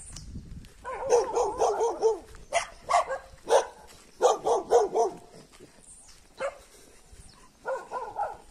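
A dog barks in a rural community in Nova Redenção, Bahia, sending several bursts of sharp, moderately close barks in uneven clusters, with quiet pauses between them.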